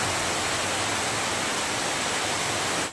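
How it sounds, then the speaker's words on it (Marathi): Rain falls over a village, a dense, even hiss of drops that holds steady and loud for a few seconds with no other sounds. "सुरू झाला पाऊस."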